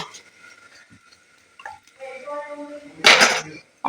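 A pot lid goes onto a pot of palm puli pitha, a brief metallic clatter near the end after quieter kitchen sounds and faint scrapes.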